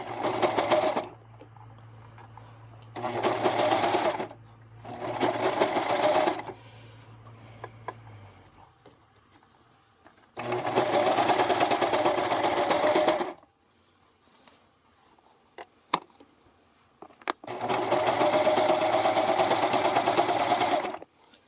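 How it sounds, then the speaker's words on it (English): A serger sewing machine stitches cording onto a purse, running in several steady whirring bursts of a few seconds each with quiet pauses and small clicks between them. "I'm just letting the serger do the work of attaching this"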